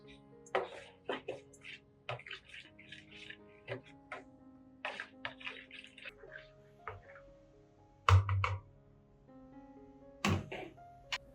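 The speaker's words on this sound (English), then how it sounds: "Add 1 tablespoon of cinnamon powder and stir well." A tablespoon of cinnamon powder is stirred into water with a spoon, making a string of close, light clinks and taps against the container, with a few heavier knocks.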